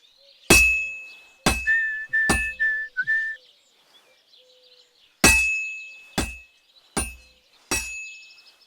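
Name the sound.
hammer striking blade at forge, from video game Kingdom Come Deliverance II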